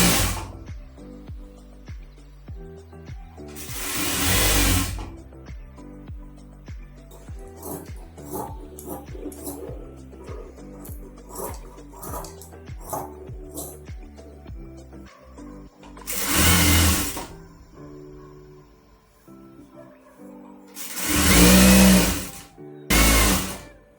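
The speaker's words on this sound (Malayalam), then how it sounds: "സ്റ്റിച്ച് ചെയ്യുവാൻ" Sewing machine stitching garments for a small clothing business, heard as intermittent runs of close mechanical whirring separated by pauses, with several louder bursts and faint background noises between them.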